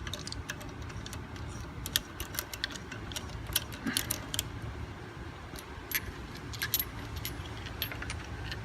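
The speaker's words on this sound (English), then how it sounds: "put the key on top" Keys jangling close by while work goes on in a car garage, with scattered small metallic clinks and taps spread across the whole stretch, fairly quiet and without talk.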